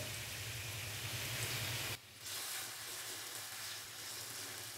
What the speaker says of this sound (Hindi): तो यहाँ पर हम आलूओं को ऑयल के साथ तकरीबन 3 से 4 मिनट के लिए फ्राई कर लेंगे